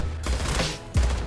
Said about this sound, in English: I hear gunshots, but I don't know where anyone is.